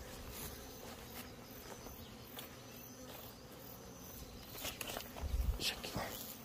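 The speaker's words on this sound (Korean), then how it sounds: "이 포획기 안에도 이렇게 말벌이 들어와 있어요." Black hornets caught inside a hornet trap give off a faint, thin buzzing under a hissy outdoor background, with a few rustling knocks near the end.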